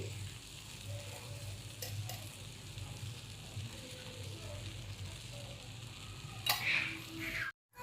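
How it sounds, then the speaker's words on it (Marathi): A gentle sizzle of jaggery, grated raw mango and ghee cooking in a kadai, with quiet scraping of a spoon stirring it, close and low in volume. "आता हे हलवत राहायचं सारखं"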